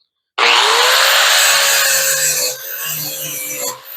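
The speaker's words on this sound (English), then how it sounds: "I will go back and forth a few times just to clean that divot up" A hand file rasps back and forth across the edge of a walk-behind lawn mower blade, sharpening it. A loud, close scraping starts abruptly and runs steadily, then breaks into shorter strokes toward the end. No one speaks.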